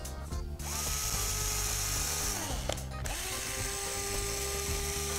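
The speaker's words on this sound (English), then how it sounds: "we're drilling a pilot hole through the wood" A power drill with a 1/16-inch bit whirs steadily up close, its motor pitch dipping and rising as it bores a pilot hole into wood, pausing briefly midway before spinning up again.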